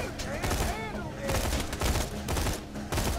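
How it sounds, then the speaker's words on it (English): Rapid rifle fire from the video game Borderlands 2, loud repeated bursts of shots running through the whole stretch, with game effects and some voice mixed in. "let's use the rifle again."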